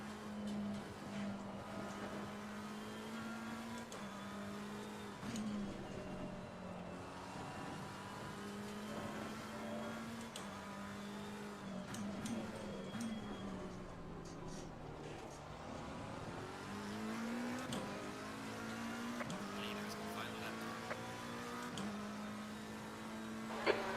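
A race car engine in the Assetto Corsa Competizione video game drones steadily near the end of a race, with rising and falling pitch as it shifts and revs continuously.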